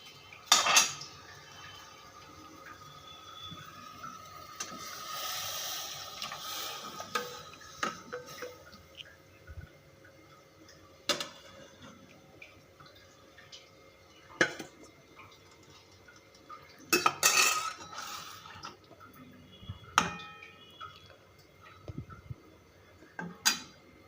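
Marinated pabda fish being placed in a pan and cooked, with scattered metallic clinks and taps of utensils against the pan over a faint steady background, sparse and fairly quiet.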